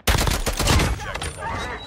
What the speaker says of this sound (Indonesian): Tembakan kita miss semua, guys.